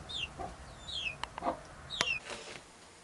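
A mother hen calls her chicks at roosting time with a few soft clucks and short chirps, close by and fairly quiet, over faint outdoor background.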